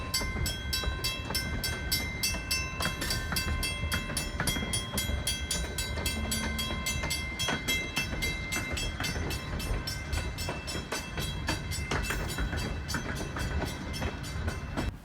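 A North Shore Railroad short-line freight train in central Pennsylvania rolls steadily past at close range, with continuous rumbling wheels, rhythmic clicking over rail joints and metallic squeals.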